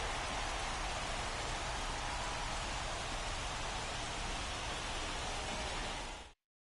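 Steady, dense rain hissing during a weather delay in a Phillies baseball video game, a uniform wash of noise with no variation that cuts off abruptly near the end.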